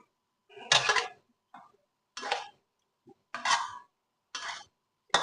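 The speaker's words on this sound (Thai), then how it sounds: "ลุงก็จะผัดหมูเลยครับ นี่หมูที่เราลวนเสร็จแล้วมาผัดนะครับ" Blanched pork is stir-fried in a pan, with about five separate, close scraping strokes of a spatula against the metal and short silences between them.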